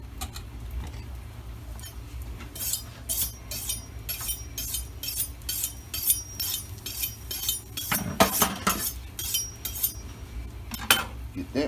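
A knife is grabbed from among cutlery while steak quesadillas cook, with repeated light metallic clinks and taps up close over a low background hiss, with brief talk.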